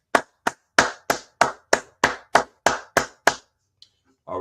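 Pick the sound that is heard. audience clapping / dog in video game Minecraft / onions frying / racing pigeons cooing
audience clapping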